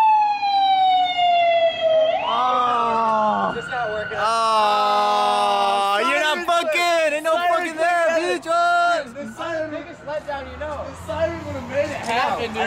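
A loud motorcycle emergency siren rises and falls, then switches to rapid yelping bursts, close and sustained over background traffic noise.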